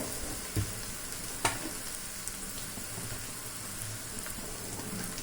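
Ridge gourd pieces fry in a pan for a curry, a soft steady sizzle with a couple of brief clinks, fairly quiet and without talk.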